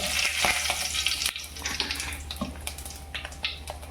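A bay leaf fries in hot oil in a home kitchen while palak paneer is being made, giving a busy crackling sizzle with scattered pops and a clatter of utensils, loud and close.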